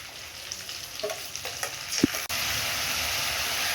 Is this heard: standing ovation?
no